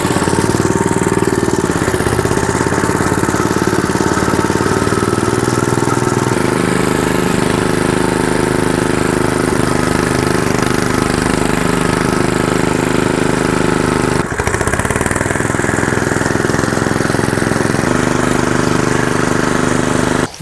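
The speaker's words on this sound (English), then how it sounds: "This is a 40-year-old Kohler engine, or 8 horsepower." An 8 horsepower Kohler engine, about forty years old, runs steadily at idle for the whole stretch, a loud, close, even mechanical drone with a brief knock partway through.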